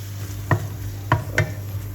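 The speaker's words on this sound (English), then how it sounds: "While you're cooking it, stir it around so it doesn't burn." Pounded Thai yellow curry paste fries in vegetable oil with a steady low sizzle, broken by three sharp scraping stirs of a utensil against the pan at irregular intervals, with no voices.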